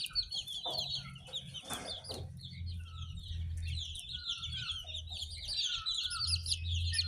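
A brood of fourteen young free-range village chickens clucks and peeps continuously, with soft low clucks and higher chirps overlapping at close range, over faint bird tweets in the background.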